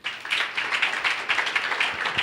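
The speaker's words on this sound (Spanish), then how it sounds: "Porque no le damos un aplauso al Señor" A church congregation claps along in a steady, rhythmic beat, many hands striking together at an even pace, loud and close throughout with no talking over it.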